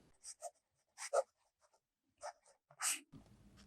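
A fountain pen scratches across the paper of an Office Depot steno notebook in short, quiet bursts of strokes with pauses between them, close up and faint.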